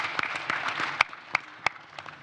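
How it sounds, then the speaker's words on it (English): Scattered, fairly faint applause from a conference audience at a development-finance panel, with a few sharper individual claps standing out over about two seconds. "A round of applause for him."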